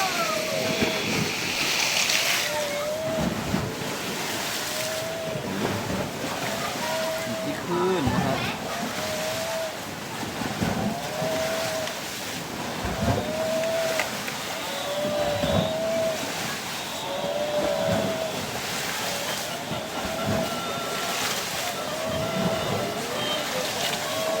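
Rough, churning sea waves surge and wash back and forth in a steady roar with wind buffeting the microphone and repeated heavier crashes, while a voice speaks faintly at times.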